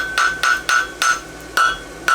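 Hammer striking hot steel while forging clips on a French hind horseshoe made from 3/8-inch stock, six sharp, ringing metallic blows at a steady, slightly uneven rhythm, close and loud, with no talking.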